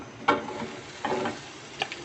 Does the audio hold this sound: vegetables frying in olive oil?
yes